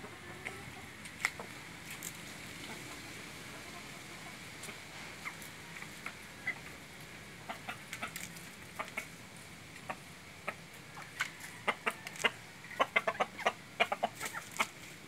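Chickens on a farmyard cluck and call in scattered bursts, growing busier and denser toward the end, over a steady background hum with no talking.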